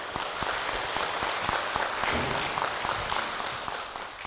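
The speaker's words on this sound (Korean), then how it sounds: "유씨성을 가진 은행원 남편 유창수 집사님 박수로 모시겠습니다." A church congregation claps to welcome a deacon, a banker, to the front, a moderate, even round of applause with a few sharper individual claps standing out.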